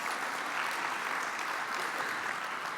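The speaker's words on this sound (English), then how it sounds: "Thank you for whoever started clapping" Continuous, full applause fills a keynote hall at a CEO panel session, a dense wash of many hands clapping at a steady level.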